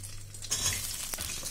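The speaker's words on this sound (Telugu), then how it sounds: "కొంచెం ఆయిల్ వేడెక్కిన తర్వాత మనం ఈ రకంగా తరిగి పెట్టుకున్న దొండకాయ ముక్కల్ని ఇందులో వేసుకుని" Chopped ivy gourd pieces go into hot oil in a pan for a curry: a burst of sizzling starts about halfway in and keeps crackling, with a sharp scrape or clink partway through and no voices.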